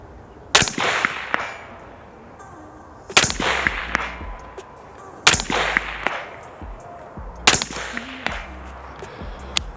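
Four loud, sharp rifle shots aimed at a steel target 200 yards away, each crack spaced a couple of seconds apart and followed by a rolling echo tail.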